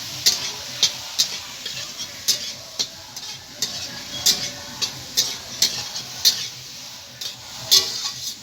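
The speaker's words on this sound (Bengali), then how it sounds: "কপিগুলো ভাজা হয়ে গেছে, তুলে নেব।" Cauliflower pieces frying in a pan with salt and turmeric while a spatula scrapes and taps the pan in repeated sharp clicks over a soft sizzle.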